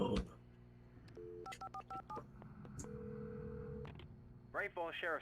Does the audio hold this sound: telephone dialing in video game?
yes